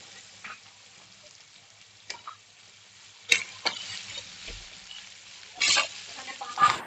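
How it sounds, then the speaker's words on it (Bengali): Egg fried rice is stirred and mixed in a pan: a faint sizzle underneath, with sparse scattered clicks and scrapes of the spatula, a few louder strokes near the end. "এবার ভালো করে নেড়ে চেড়ে রাইসটাকে মিশিয়ে নিতে হবে"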